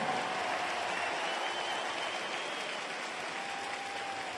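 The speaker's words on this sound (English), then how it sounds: "Vous pouvez encore une fois vous applaudir." Steady, dense applause from a large audience in an arena at a world senior karate championships, heard evenly from a distance for several seconds without pause.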